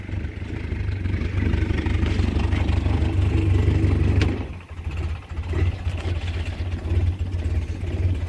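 A rebuilt Land Rover engine, bored out plus 40 and fitted with a lead-free head, runs steadily on choke outdoors, a loud low rumble that dips briefly near the middle before settling back into an even idle.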